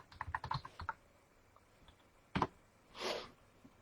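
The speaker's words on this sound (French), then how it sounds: "Geffroy, je vais vous l'écrire en commentaire." A quick run of keyboard taps while writing a comment, then a lone louder keystroke and a soft rustling burst, close and quiet against faint room noise.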